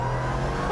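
A car's engine pulls steadily and loudly under hard acceleration on the road, a continuous close drone with no pause and no voices.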